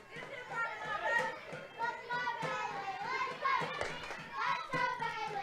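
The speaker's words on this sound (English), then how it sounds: "Here's some young ICC fans trying to cheer on Bailey." Young softball fans cheering in the stands, with high children's voices calling out in bursts and chattering over a quiet background, several kids shouting together at close range.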